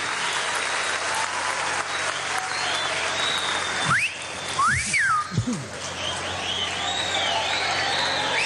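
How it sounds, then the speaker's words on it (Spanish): Applause and whistling from a large crowd at a political youth congress closing, honoring Silvia Flores de Maduro; steady loud clapping throughout with sharp rising whistles cutting through the middle. "Un aplauso para Silvia Flores de Maduro"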